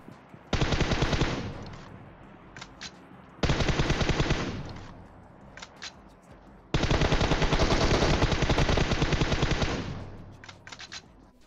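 Gunfire in the video game PUBG Mobile comes in three long automatic bursts, loud and close, with a few scattered single shots in the gaps between them.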